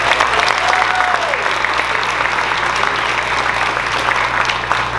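An audience applauds at a Chinese dinner event held at Juniata College, a dense and steady round of clapping that fills the room without a break.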